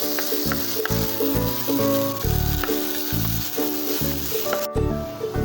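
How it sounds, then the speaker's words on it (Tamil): Ginger paste for a ginger thokku cooks in oil in a pan, a close, continuous sizzle with repeated rhythmic stirring strokes throughout, no talking. "அது அளவுக்கு நல்லா வதக்கணும்."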